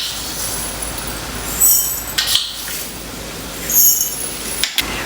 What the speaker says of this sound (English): add half a teaspoon of your crushed peppercorns in your jar and half a teaspoon of your mustard seeds